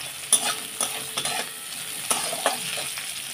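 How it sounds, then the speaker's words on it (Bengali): Chopped onion sizzles steadily in a pan after fried potatoes. A utensil stirs it with occasional scraping knocks, close and clear, and nobody talks. "পেঁয়াজটা একটু ভাজা হবে"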